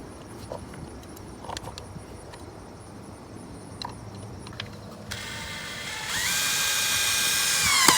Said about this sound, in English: it was a lot of screwing things on and off until you get it right